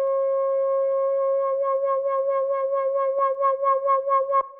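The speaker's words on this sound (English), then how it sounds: "let's start with the sine wave so you guys can hear what it sounds like" Roland SH-2 analog synthesizer playing a steady sine-wave tone, clean and loud with no talk. Toward the end it begins to pulse and wobble as LFO modulation comes in.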